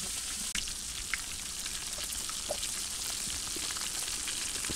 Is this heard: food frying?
yes